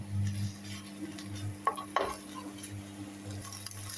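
Meat and onions fry in a pan with a steady low sizzle, a spoon or spatula scraping and turning them in two sharp strokes near the middle, close and moderately loud with no voices.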